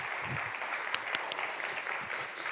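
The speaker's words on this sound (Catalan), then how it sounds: "I l'acomiadem amb un fort aplaudiment, no?" Audience giving a loud round of applause to send someone off at a public gathering, a steady wash of clapping with no voices standing out.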